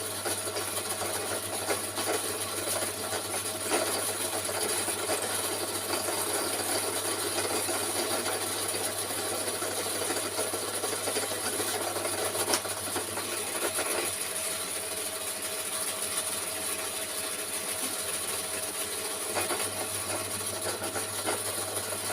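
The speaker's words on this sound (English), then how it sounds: "I'm just going to carry on now and drill out the rest of the holes" A power drill grinds steadily through steel, drilling holes for a gauge 1 model locomotive, a continuous rough whirring that holds for the whole stretch over a low constant hum.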